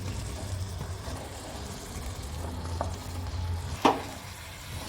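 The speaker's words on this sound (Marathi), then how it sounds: "आता मी कारली स्वच्छ धुवून कापून घेतली होती ते कारलं टाकते फोडी" Pieces of bitter gourd are stirred into a spiced pan of pickle masala with lemon and chillies, a soft continuous scraping over a low background hum, with one sharper clink of the spoon near the end.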